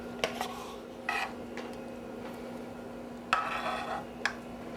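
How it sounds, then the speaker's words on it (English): Spatula scraping and tapping against a dish while Jell-O Supreme dessert is spread out, a few soft, brief utensil clicks and scrapes at separate moments over a quiet background hum. "I will spread this out with a spatula"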